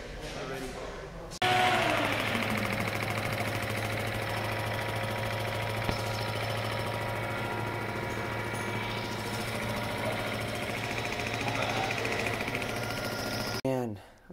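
An engine starts abruptly and runs steadily at a loud, close idle with a constant mechanical drone, then cuts off near the end, with a voice briefly heard over it.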